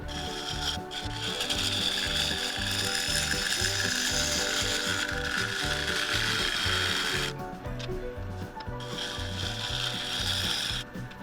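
A spindle gouge cuts a bead into the foot of a wooden piece spinning on a lathe. The steady, loud scraping rides over a ratcheting motor drone, with a brief dip in the cutting noise near the end.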